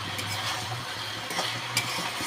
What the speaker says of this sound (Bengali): ঢাকাটা খুলে নিয়েছি, আবার একটু ভালো করে কষাতে হবে।